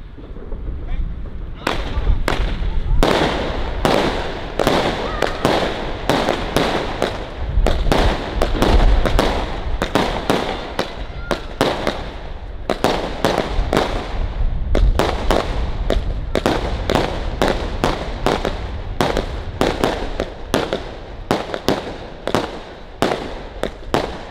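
Fireworks from a 919-shot Category F4 cake at a New Year's Eve 2021-2022 show, firing a dense, continuous barrage of sharp bangs and crackling bursts for the whole stretch, loud and close, with occasional faint voices.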